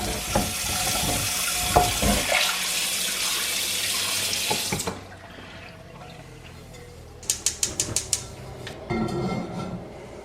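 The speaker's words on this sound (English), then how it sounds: "Now we're just going to rinse this off with some hot water here, because we were sanding it." Hot tap water runs steadily into a sink to rinse a freshly sanded cast iron skillet, a loud continuous splash for about five seconds, then quieter handling with a few sharp metallic clinks and a brief second burst of water.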